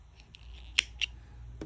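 Scissors snipping crochet yarn close by, with two or three sharp, quiet cuts spread over a moment, then a faint click at the end.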